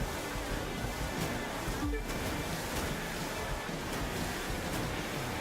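Ocean waves in The Crew 2 racing game near a cruise ship, a steady loud wash of surf and wind-like rushing that fills the whole span without pause.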